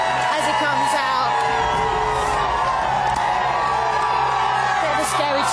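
Crowd outside a Big Brother UK house whoops, cheers and yells continuously as an evicted housemate emerges, a dense, loud roar of many voices with some talk mixed in.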